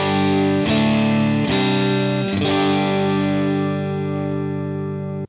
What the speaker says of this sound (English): So there is the sound of the amp.